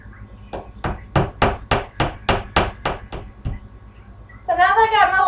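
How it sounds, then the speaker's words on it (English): About ten sharp, evenly spaced hammer taps on a nail against a wall, close and fairly loud, stopping before a burst of voice-like sound at the end. "I'm going to stick the nail and take the hammer and dab a little hole"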